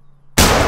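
A single rifle gunshot at a shooting range in theHunter Call of the Wild, a sudden loud blast that breaks quiet near-silence and rings on as a sustained roar.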